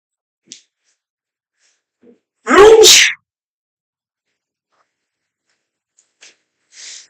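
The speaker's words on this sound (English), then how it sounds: "Well, I have to sneeze." A single loud sneeze bursts out, preceded and followed by faint sniffs and small breathy noises in an otherwise quiet room.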